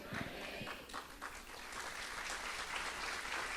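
A church congregation applauds steadily, a dense broadband patter of many hands that holds at an even, moderate level throughout, with a few low thumps near the start.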